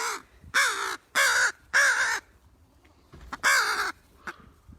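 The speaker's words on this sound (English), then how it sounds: "There's a raven flying overhead." A raven calls while flying overhead at a wildlife center, giving four loud harsh caws in a row, then a gap and a fifth caw, with faint softer sounds between.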